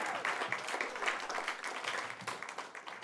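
A comedy club audience in Times Square applauds a comedian walking on stage, with steady, moderately distant clapping that continues throughout and slowly thins toward the end.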